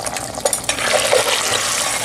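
A spoon scrapes and stirs through goat tallow rendering in an Instant Pot, giving a soft, steady liquid swish and sizzle with a few brief clicks, close and alone.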